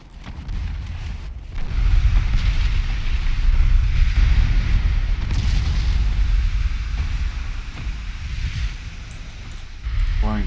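Naval guns fire on ships in a Regia Marina battle in Ultimate Admiral Dreadnoughts, a continuous heavy rumble of overlapping booms and distant blasts rolling on for several seconds.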